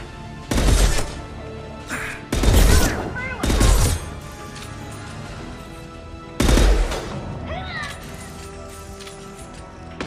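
Gunfire and an impact shot in the video game Mass Effect 2 come as four loud, harsh bursts separated by quieter stretches with tonal game sounds and faint voices.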